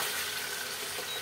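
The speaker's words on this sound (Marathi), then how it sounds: "आता आपण एक गार्लिक पेस्ट ओतली." Garlic paste sizzles in hot oil in a frying pan, a steady, dense hiss with a soft crackle running throughout and no voices.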